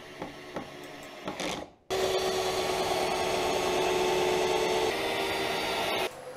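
A power drill whirs steadily for several seconds, driving into wooden studs for a portable wall frame, after some shorter bursts and handling clatter at the start.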